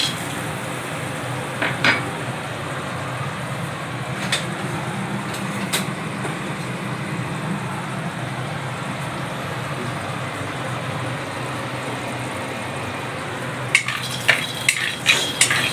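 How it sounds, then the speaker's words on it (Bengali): Peanuts dry roasted in a hot, dry wok-style pan, a continuous dry rustling and scraping close by, with a few metallic clinks early on and a burst of rattling near the end. "এবার আমি শুকনো কড়াইয়ে আগে বাদামগুলো ভেজে নেব।"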